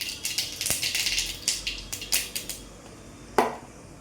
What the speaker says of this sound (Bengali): বন্ধুরা, তেলটা গরম হয়ে গেছে, এবার আমি সর্ষেটা সোমবারে দিয়ে দিলাম।